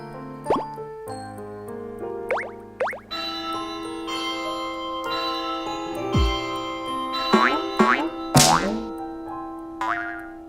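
Bright, bouncy bell chimes and springy boing-like tones from the Bells of Joy patch in Kirby's Epic Yarn ring out in a playful run of separate hits and sliding pitches over a soft musical bed, with no talking.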